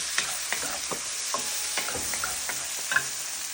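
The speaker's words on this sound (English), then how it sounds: "I'm now gonna go in with the onions, the serrano, and the jalapeno, and just toast those through." Onions with serrano and jalapeno peppers fry in hot oil over high heat, a steady sizzle broken by repeated scraping and clinking as the pan is stirred, close and alone.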